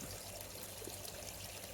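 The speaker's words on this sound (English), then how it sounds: "it actually looks like it fills up with water" Water pours steadily into a container at a koi pond, a soft continuous trickling rush that holds an even level throughout without pauses.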